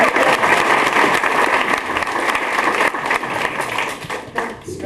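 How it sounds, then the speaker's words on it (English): An audience applauds a volunteer called up on stage to help with a magic trick, steady dense clapping filling the room for about five seconds before tapering slightly at the end. "But give her a round of applause."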